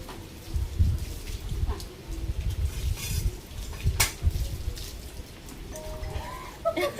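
Rain falls steadily, close by, with a soft hiss of drops on surfaces and occasional louder patters throughout. There is no clear talk.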